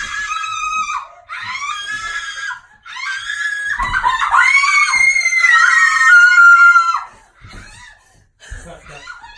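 A person screams on cue during a film shoot, giving several long, loud, high-pitched screams close up, with short breaks between them and breathy laughter near the end.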